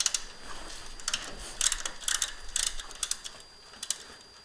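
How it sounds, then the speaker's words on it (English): A 14 mm ratchet clicks while loosening the center bolt on a Kubota compact tractor's three-point hitch, a close series of quick metallic pawl ticks in short uneven bursts, with no voices. "grab yourself 13, 14 millimeter ratchet"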